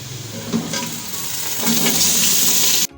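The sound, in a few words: mutton frying in a pan with onions and curry leaves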